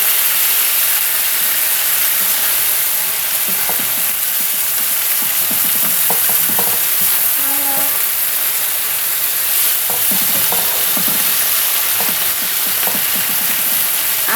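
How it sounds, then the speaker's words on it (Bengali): Thin-cut potato strips fry in a pan while being stirred, giving a loud, continuous sizzle with occasional scraping and clattering of the utensil, and no talk. "আলুটা একটু নেড়ে চেড়ে"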